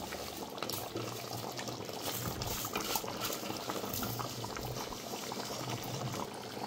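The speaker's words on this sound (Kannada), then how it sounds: "ಇವಾಗ ನಾನು ಅಕ್ಕಿ ಹಾಕ್ಕೊತಾ ಇದ್ದೀನಿ" Washed, unsoaked rice tipped into a pot of cooked chicken for chicken biryani, giving a steady close wet pouring and sizzling-bubbling hiss that runs the whole time, with no talking.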